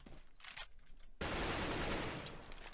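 A sustained spray of automatic gunfire rattles against walls in Counter-Strike: Global Offensive, beginning abruptly after a quieter stretch of faint game sounds and continuing loud and dense to the end.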